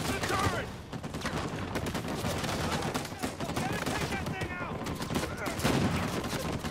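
Enemy gunfire in Uncharted 4: A Thief's End, including a turret, rattles in continuous rapid bursts of fairly loud shots amid game action, with a voice speaking over parts of it.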